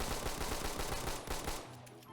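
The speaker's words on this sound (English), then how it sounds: "you can spam it and still fire in a straight line" Rapid pistol fire in the Phantom Forces video game, a dense run of quick, evenly spaced loud shots that fills most of the clip, then thins into a brief tail as the firing stops.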